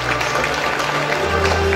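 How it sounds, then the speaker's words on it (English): Audience applause in a Nigerian university hall after a professor and engineer is welcomed, a steady dense wash of clapping at moderate level with low hum underneath and no clear talk. "Please, a round of applause for him."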